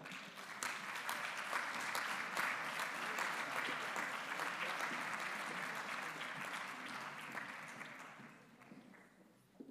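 Audience at a professional oath-of-honour ceremony in Viseu applauds colleagues with over 30 years of membership, dense sustained clapping from a sizeable crowd that slowly thins and fades toward the end.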